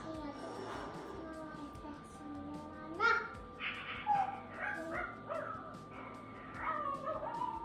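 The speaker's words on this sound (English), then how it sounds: "Ava, you have to take the dog out of here, okay?" A dog barks and whimpers in a home kitchen, giving a few yips and whines at moderate distance between voices and kitchen clatter.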